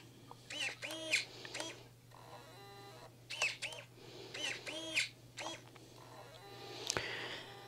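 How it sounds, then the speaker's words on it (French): A 6DOT electronic Braille label printer at work: close, quiet mechanical whirs and clicks in uneven short bursts over a steady low hum, ending in a sharp snap. "C'est en train d'imprimer."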